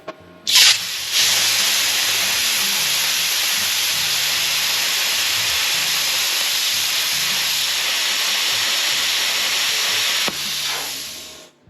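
Vevor plasma cutter run at about 31 amps on light aluminum clamped for grounding gives a sudden loud, steady hiss that holds for roughly ten seconds, then cuts off abruptly and fades.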